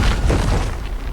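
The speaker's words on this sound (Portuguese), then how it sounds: "Ele usa suas granadas para explodi-lo." A grenade explosion in a Batman and Flash film scene lands as a loud, close, low boom at the start and rumbles away over about a second, with no talk over it.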